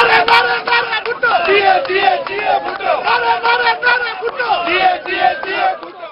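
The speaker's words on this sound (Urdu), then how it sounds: "پیپلز پارٹی اور جمعیت علماء اسلام کے کارکنان یک زبان ہو کر حکومت مخالف نعرے لگاتے رہے." Crowd of Pakistan Peoples Party and Jamiat Ulema-e-Islam workers at a rally chanting anti-government slogans in unison, loud rhythmic massed shouting repeated in bursts with a babble of voices throughout.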